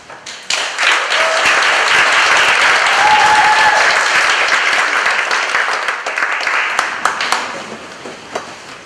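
Audience in a Dallas County Jail program hall breaks into loud, sustained clapping that swells quickly, holds steady for several seconds, then thins into scattered claps near the end.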